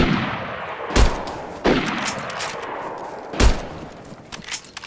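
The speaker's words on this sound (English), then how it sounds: "He's shooting along the wall from the west" Gunfire in the survival game DayZ cracks out along a wall in three or four sharp, loud reports spaced about a second apart, each trailing off into a ringing echo, with scattered fainter shots after.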